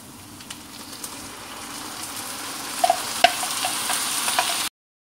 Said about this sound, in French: On laisse un peu revenir l'oignon et l'ail, après on mettra la tomate